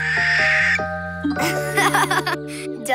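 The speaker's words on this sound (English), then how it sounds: "I think this one is a barn owl," A barn owl shrieks in harsh, raspy bursts, loud and close, laid over steady, stepped tonal sounds.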